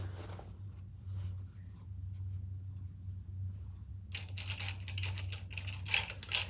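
A sewing machine stitches across the bottom of a fabric crossbody bag. A steady low motor hum runs throughout, and a dense burst of rapid, close clicking stitches comes in over the second half. No one speaks.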